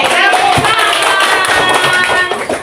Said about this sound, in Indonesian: Yeay, tepuk